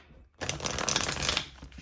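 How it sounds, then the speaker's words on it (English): A quick riffle of playing cards being shuffled, a close, crisp flurry of flapping lasting about a second. "One more shuffle."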